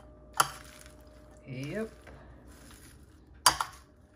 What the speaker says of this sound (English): And I stir them up like a bit.